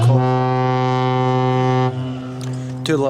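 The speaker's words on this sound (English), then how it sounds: "the fog has come back in. And the foghorn's gone as well." A deep foghorn sounds at Anstruther harbour in the fog, a loud steady harmonic blast lasting nearly two seconds, then fading into a softer tail before a brief second burst near the end.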